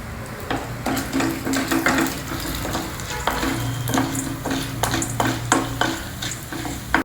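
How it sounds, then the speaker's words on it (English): Urad dal frying in about two teaspoons of hot oil in a pan, a steady close sizzle with crackling pops and scraping stirs, with no talking. "heat about 2 teaspoons of oil in a pan. Add 1 tablespoon of urad dal."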